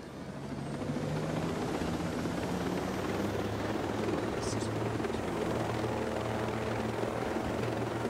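Helicopter in a multiplayer shooter video game, its steady rotor and engine drone holding loud and constant throughout, with low rhythmic throbbing and game ambience layered over it.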